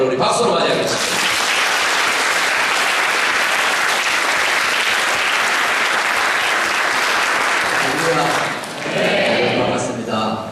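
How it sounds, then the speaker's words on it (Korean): A church congregation at an evening revival meeting claps loudly and steadily for a visiting preacher, dense applause that dips briefly near the end and then resumes. "우리 박수로 맞이하겠습니다"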